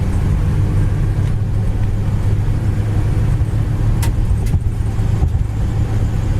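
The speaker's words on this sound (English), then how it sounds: "Engine picks up speed well. We're doing 65 mile an hour." Engine and road noise from a 1959 Ford white retractable cruising at highway speed, a steady loud low drone with tire rumble, continuous throughout with no talk.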